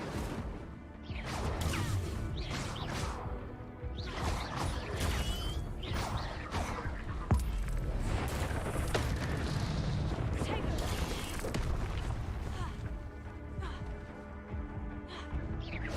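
Levioso and Incendio spells fire off in the Hogwarts Legacy video game in a dense, continuous run of whooshes, crashes and booming impacts, with a voice calling out over the din.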